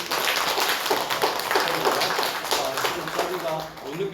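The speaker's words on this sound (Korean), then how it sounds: "하나님께 한 박수를 보낼까요?" Church congregation applauding together in a North Korean defector church during a healing service, a dense, steady wash of clapping lasting throughout with voices mixed in.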